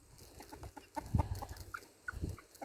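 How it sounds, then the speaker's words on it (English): Several roosters cluck softly and irregularly around a homemade nipple waterer, short close clucks rising in a few louder bursts over quiet farmyard background. "3 of the 4 new roosters have come over for a drink now."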